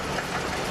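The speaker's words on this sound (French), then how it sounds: "On aperçoit un tracteur Massey Harris modèle 81, 22 forces, 1944, qui tire un épandeur à fumée" A 1944 Massey Harris model 81 tractor, 22 horsepower and on metal wheels, pulls a manure spreader in a parish parade, its engine making a steady, dense idling chug close by throughout.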